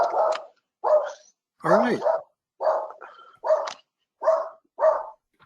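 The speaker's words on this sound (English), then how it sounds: "That's my dog, by the way, barking at a cat which has dared to come up on our deck." A dog barks at a cat on a home deck, giving seven sharp, loud barks in a fairly even rhythm with short silent gaps, and someone briefly speaks between them.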